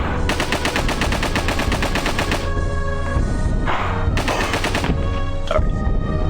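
Rapid bursts of video game gunfire in Sonic Lost World, played in quick repeated volleys with a short lull in the middle, loud and close, no talking.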